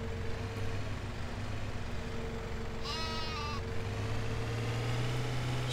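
A sheep in Farming Simulator 2017 gives a single clear bleat of about a second, heard over a steady loud engine-like drone of the game's farm machinery.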